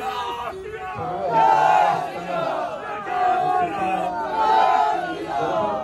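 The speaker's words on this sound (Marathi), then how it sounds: "बाकी हे बघा हा जल्लोष तोच आहे" Large festival crowd in Shrivardhan cheering and shouting in celebration at a Shri Ram procession, a dense, continuous roar of voices with rising and falling bursts of yelling, close and loud throughout.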